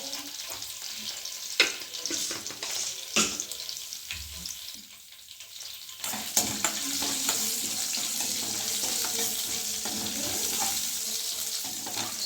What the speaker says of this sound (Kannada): ಕಡಲೆಬೇಳೆ ಹಾಕ್ತಾರೆ ಒಗ್ಗರಣೆಗೆ